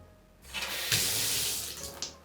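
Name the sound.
rinsing bathroom with cold tap water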